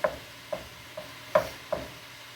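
Spoon stirring cooked macaroni into goulash in a pot, five distinct scraping clinks spaced about half a second apart, close and clear with no talking.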